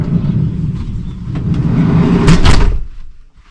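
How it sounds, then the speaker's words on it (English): Inside a DIY campervan conversion, a door is pulled along and shut with a heavy rumbling slide that ends in a sharp knock, heard close and fairly loud over a low background rumble. "You shut the door"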